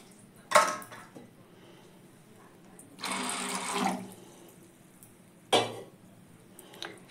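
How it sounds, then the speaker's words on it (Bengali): Sago pearls are washed in a bowl of water, with three separate bursts of swishing, pouring water close by, one longer sloshing stretch in the middle, and quiet pauses between. "দু তিনবার জল পাল্টে পাল্টে ধুয়ে নেব"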